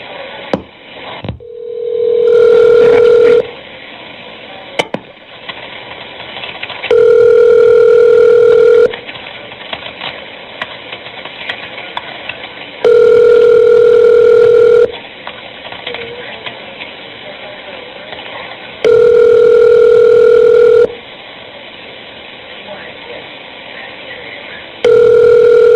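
Telephone tones ring out while a call goes through to voicemail, a steady tone pulsing in regular bursts of about two seconds every four or five seconds over a faint background hum.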